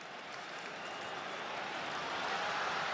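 A football stadium crowd at a Norway vs. Sweden international friendly roars steadily in a broad wash of cheering and applause, swelling slightly over three seconds with no distinct voices on top.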